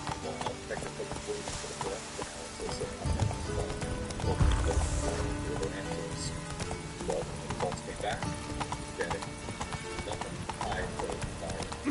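Roach, the horse in Witcher 3, trots with steady rhythmic hoof clops on the ground, close and continuous, while someone speaks over it and other game sounds mix in.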